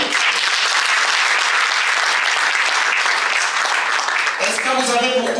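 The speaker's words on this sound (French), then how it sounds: "vous méritez vraiment des tonnerres d'applaudissements pour vous-même" An audience at a business coaching meeting bursts into loud, sustained applause, dense clapping filling the room continuously, with a voice rising over it near the end.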